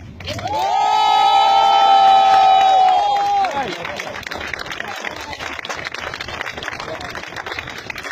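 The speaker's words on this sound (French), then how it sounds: "J'ai trouvé les applaudissements un peu timides" A festival crowd claps and cheers loudly, with sustained shouts and whoops building through the first few seconds, then settles into steady, dense applause that carries on to the end.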